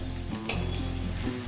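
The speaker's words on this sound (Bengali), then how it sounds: "একটু লাল করে ভাজবো," Half-boiled potato pieces fry in hot oil while being browned for a lentil fritter dish, giving a steady close sizzle with a low hum beneath and one brief sharp crackle partway through.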